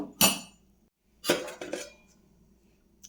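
A metal pot lid set down and closed on a cooking pot in a home kitchen, a couple of sharp clanks and a rattling clatter, close and alone.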